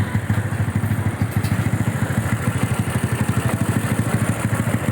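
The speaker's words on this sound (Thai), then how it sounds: "เวฟหนึ่งสองห้า เพิ่ง ติดเครื่อง หลังจากที่หลับไปนาน" A Honda Wave 125 motorcycle, just started after sitting unused for a long time, idles close by with a steady, rapid, thumping beat. It is modified with a 56 mm piston, a performance cam, MSX valves, a tuned carburetor and an open exhaust.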